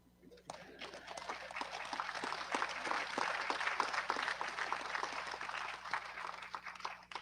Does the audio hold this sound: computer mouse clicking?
no